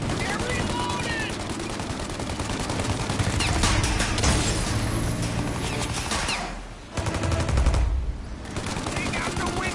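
Dense bursts of machine gun fire rattle close and loud in Mafia Definitive Edition, rapid volleys with short breaks, under shouting voices.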